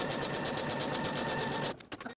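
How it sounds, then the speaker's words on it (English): A sewing machine stitches the folded, pressed top edge of a kimono jacket pocket with a close, steady, rapid whir, then slows and stops with a few last chugs. "we're going to sew that folded edge with an 1/8 of an inch seam allowance."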